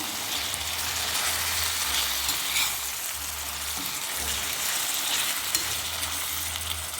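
Washed mutton keema goes into a hot pan and is stirred, a loud continuous sizzle and crackle with scraping spoon strokes and occasional clinks, no talking.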